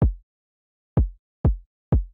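Four dry kick drum hits with no drum bus processing, short and boomy with a quick decay, one alone then three in quick succession after a gap.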